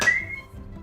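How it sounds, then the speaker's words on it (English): A single short whistled note from a person, bright and close, fading quickly into a quiet room. "I'm still whistling."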